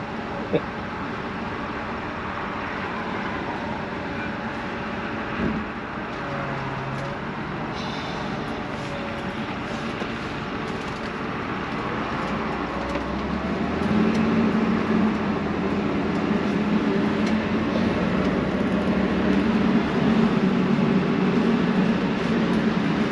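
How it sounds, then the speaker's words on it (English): Road noise and passing traffic come through the open window of a moving 2005 Winnebago Adventurer 38R Class A motorhome, a steady low rumble that swells louder toward the end. "we're definitely going to hear other cars more"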